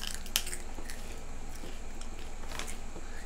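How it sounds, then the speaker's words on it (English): Someone bites into thick, extra-crunchy maple bacon kettle-cooked potato chips up close, with one sharp crunch followed by softer chewing against steady room noise. "These ones are kettles, so they're extra crunchy."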